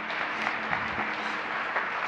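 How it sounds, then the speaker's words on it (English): Brief applause from a congregation during a church service, a soft, even patter of many hands that stays level and somewhat distant for about two seconds. "Let's give Tina a round of applause."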